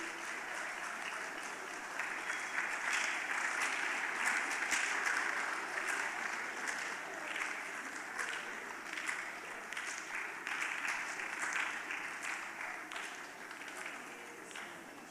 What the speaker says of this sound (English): Let's clap as she's coming.